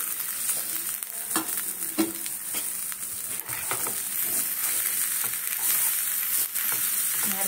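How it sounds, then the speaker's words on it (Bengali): Grated coconut and sugar frying in a pan with cashews and raisins, a continuous dense sizzle with scraping stirs and soft crackles, close and steady, no talking. "কাজু কিশমিশ সামান্য ভাজা হয়ে গেলে এবারে দেবো নারকেল"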